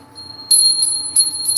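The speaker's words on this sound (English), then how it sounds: "You get the bell." High-pitched bell rings in several quick bright bursts, clear and close over a quiet background.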